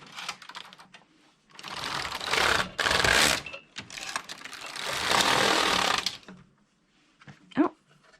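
A Passap E6000 knitting machine with a DM80 motor knits rows of mitten ribbing, producing two long bursts of clattering, rattling carriage passes with brief pauses between, fairly close, with a short spoken remark near the end.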